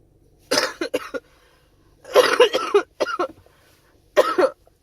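A person has a coughing fit: a run of harsh, close coughs in three clustered bursts separated by short silences.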